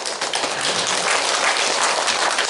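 A church congregation claps to welcome a visiting professor, a dense and steady wash of applause from many hands that holds evenly throughout.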